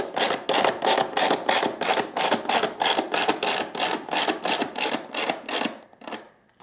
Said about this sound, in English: Just gradually tighten everything down.